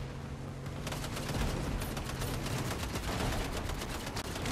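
Sustained rapid gunfire from a Fortnite match, a dense continuous volley of shots rattling along steadily at moderate distance, with no talking over it.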